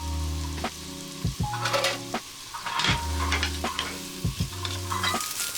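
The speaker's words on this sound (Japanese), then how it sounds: "これからキノコをバターと少しの油でね、炒めていきます。" Mushrooms frying in butter with a little oil, a steady close sizzle broken by repeated stirring and scraping sounds in a loose rhythm, with no voices.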